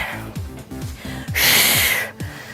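A person breathes hard during a cardio fat-burning workout, one forceful sustained exhale standing out among short gasps over a thumping rhythmic backing beat.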